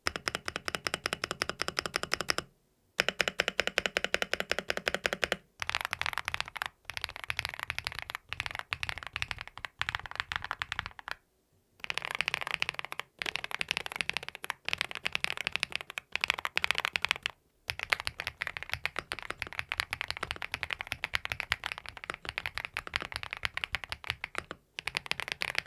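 Continuous clicky typing on an AULA mechanical keyboard (F108 Pro V2 / F87 Pro V2) fitted with Yusung switches, a rapid stream of crisp, bright keystrokes broken by a few short pauses, close and alone without talk.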